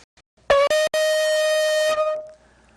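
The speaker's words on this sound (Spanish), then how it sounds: "Aquí tengo un cuerno que hice en Colombia cuando tenía más o menos 15 años de edad" A homemade animal horn trumpet, made in Colombia, blown in a few short, loud blasts followed by one long sustained note that fades at the end, heard alone without speech.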